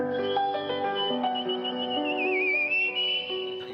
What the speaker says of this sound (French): elle possédait également l'étonnant talent de siffleuse